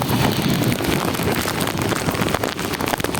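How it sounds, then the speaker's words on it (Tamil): Strong cyclone wind roars and buffets a phone microphone outdoors, a loud, continuous broadband rush with gusty surges throughout. "காற்று வந்து ஹெவியாக வீசுது அதனால் ஃபோனை கூட அந்த அந்தளவுக்கு வந்து காற்று ரொம்ப ரொம்ப ஹெவியாக வீசுது"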